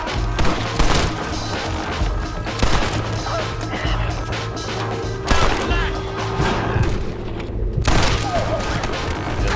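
Gunfire and impact crashes in Red Dead Redemption: Undead Nightmare on Xbox 360, with several loud bursts over dense, continuous game sound and a low steady drone.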